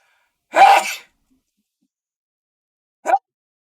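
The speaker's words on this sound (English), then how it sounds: "I'm gonna sneeze" A single person sneezes once, close and loud, followed by a short quiet breath or sniff a couple of seconds later in otherwise silent surroundings.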